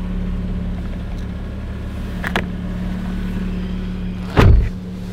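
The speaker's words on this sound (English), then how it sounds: "And then wind down the window." A power car window winds down inside a stationary car, a faint electric motor hum running steadily under the cabin hush, broken by a couple of brief clicks and a thump near the end.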